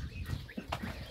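Hens cluck softly in the farm shed where they roost at night, a few faint, short calls over a low background.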